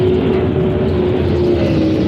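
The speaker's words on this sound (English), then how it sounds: "this is the 7th heat race for the Super Trucks at Vado Speedway" Super Trucks roar through a heat race at Vado Speedway near El Paso, their engines loud and sustained with a steady droning pitch and dense rumble and no break.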